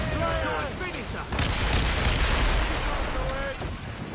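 Naval cannon fire in Assassin's Creed Rogue, heavy booming shots rolling together in a rumbling barrage from a sailing warship's broadside, loudest in the middle, with shouted voices heard in the clip.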